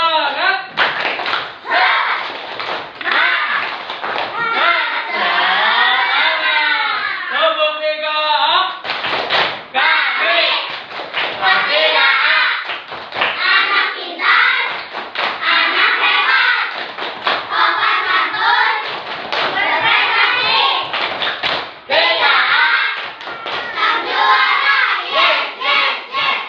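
A class of students performs a rhythmic spirit clap led by a teacher, with patterned bursts of clapping and chanted voices shouting along, loud and close, broken by brief pauses.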